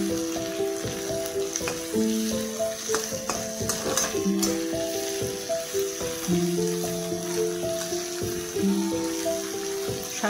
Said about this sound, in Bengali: সবগুলো একটু ভেজে নেবো ভালো করে।